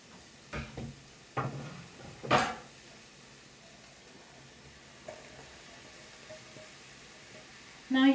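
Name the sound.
chopped vegetables added to sizzling onions and garlic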